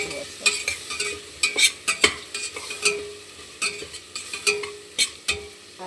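Dal khichdi with coriander powder and salt is stirred and fried in a pan. A spoon scrapes the pan in repeated rhythmic strokes over a light sizzle, close and clear, with no talking.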